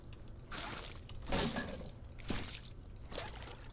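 A mop is sloshed and rinsed in a bucket of water in the video game Viscera Cleanup Detail, several splashing, pouring surges that swell and fade, fairly quiet with no talking.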